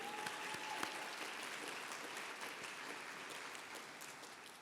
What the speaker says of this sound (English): Let's give all of the honorees another round of applause,